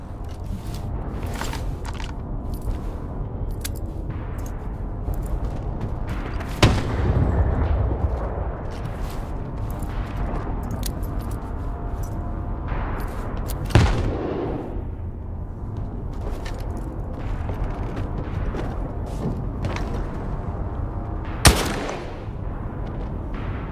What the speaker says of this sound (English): Those nades didn't get him, but that shotgun did.